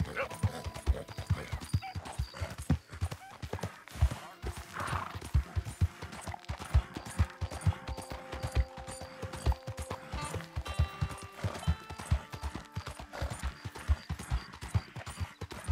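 Horse hooves clip-clop steadily and rhythmically in Red Dead Redemption 2, close and prominent through the whole stretch, with occasional whinnies and a dog barking nearby.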